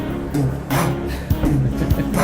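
A cheap $9.99 drum machine plays a steady beat, with sharp hits repeating at regular intervals over a dense, busy backing of tones and noise.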